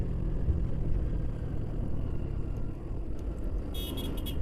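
Travel minibuses passing on a road in Indonesia near Minangkabau airport, a steady rumble of engines and traffic with short horn toots near the end.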